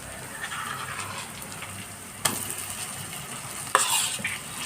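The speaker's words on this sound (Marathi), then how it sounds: "आता यामध्ये आपल्याला बरं वांग टाकून घ्यायचे" Eggplant sizzles in a hot pan on high heat, a steady frying hiss with a couple of sharp spoon-on-pan scrapes as it is stirred.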